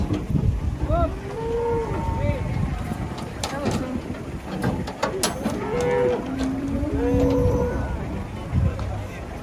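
Cattle being unloaded from a truck moo loudly and repeatedly, several drawn-out calls overlapping amid a noisy, bustling crowd with people talking nearby.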